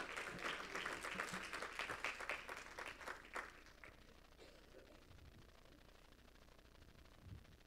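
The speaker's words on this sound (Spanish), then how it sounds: "Dele ese fuerte aplauso a Él" A church congregation applauds, a faint, distant wash of clapping that holds for about three seconds and then fades out into low hiss.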